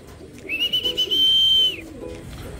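A young pigeon gives one thin, high, drawn-out squeal lasting about a second, close by, over a soft low rumble.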